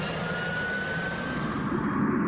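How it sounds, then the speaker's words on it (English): The Gloster E.28/39, Britain's first jet aircraft, passes low and fast over Cranwell Airfield, a broad roaring jet rush with a faint rising whine that swells slightly toward the end. "the Gloucester E-28 flew low and fast over Cranwell Airfield at 370 miles per hour"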